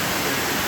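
A jungle waterfall in Khao Sok pours in a steady, dense rush of water, close and continuous through a very brief moment.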